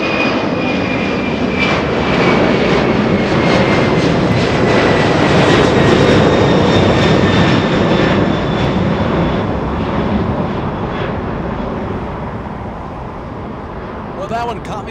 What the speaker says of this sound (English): A 767 flying to Fort Worth. FedEx 1100.